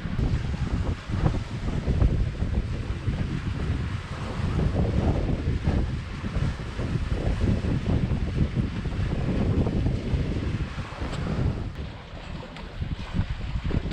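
Wind rushing past a sailboat picking up speed after motoring: a continuous, close buffeting roar with low rumble and gusts, mixed with water wash against the hull, steady and fairly loud, no voices.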